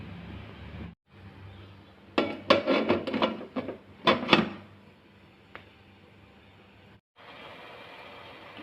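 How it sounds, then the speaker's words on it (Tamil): A metal lid goes onto an idli steamer pot cooking raagi idli, making a close run of clattering knocks and rattles as it settles, over a steady steaming hiss, with no talking. "இப்போ இதை மூடி போட்டு மூடிடுவோம்"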